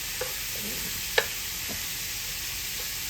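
Bacon and green onions frying in a pan, a faint, steady hiss with a couple of brief clinks and light scraping as pieces are turned over.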